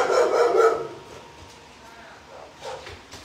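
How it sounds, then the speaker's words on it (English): Neighbouring dogs barking from next door, a loud burst of several barks at first that fades into quieter, more distant yips and one short bark near the end. "Lucy's getting the dogs next door in trouble"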